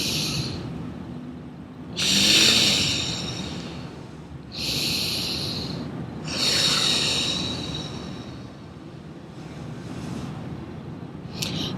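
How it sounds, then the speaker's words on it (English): Deep breaths drawn in during meditation, several breathy rushes close to the mic at fairly regular intervals, with quieter gaps between them and no speech. "And take another deep breath in"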